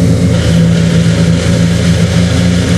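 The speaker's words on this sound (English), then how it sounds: "And the engine's idling high" A car engine idling at a raised, high idle, with a suspected transmission or transfer case fault. It is a steady, loud, close droning hum with no voices.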